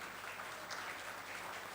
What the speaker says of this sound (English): may we fill this hall with a thunderous round of applause in honor of our distinguished